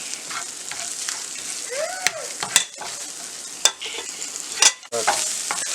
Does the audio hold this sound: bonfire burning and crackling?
no